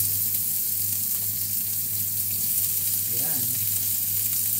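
Onions fry in a pan for beef stroganoff, hissing in a loud, steady, close sizzle that runs unbroken under a brief spoken word.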